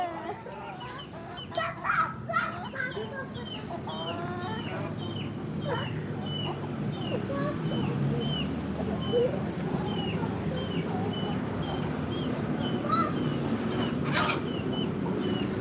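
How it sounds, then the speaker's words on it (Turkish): An escaped chicken clucks and calls close by, with several hens cackling in irregular bursts over a constant farmyard murmur. "Kaçak tavuğumuz var."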